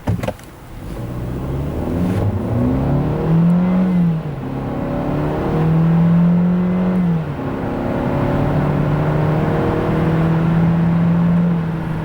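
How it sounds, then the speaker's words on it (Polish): A 2024 SsangYong Torres with a 1.5 GDI turbo petrol engine (163 hp) accelerates from 0 to 100 km/h in normal mode, the engine note rising through several gear changes, heard from the cabin with a steady hum beneath. "Tak samochód przyspiesza 0 do setki na ustawieniach normalnych,"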